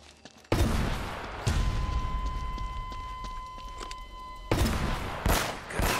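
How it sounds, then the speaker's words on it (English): Gunfire from the video game Uncharted: Drake's Fortune comes as several loud, sharp bursts spaced a second or more apart over a steady, noisy combat background with a faint tonal hum. "Shoot to kill!"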